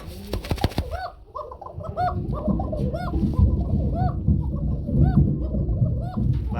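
Pigeons at a breeding farm coo repeatedly in close, rhythmic calls over a low murmur of background noise, following a few sharp knocks at the start.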